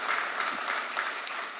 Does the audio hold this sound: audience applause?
yes